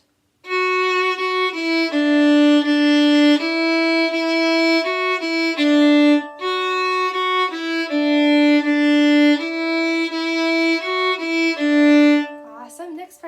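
A bowed string instrument plays the folk tune "Go Tell Aunt Rhody" alone, with sustained notes in a clear stepwise melody and short pauses between phrases.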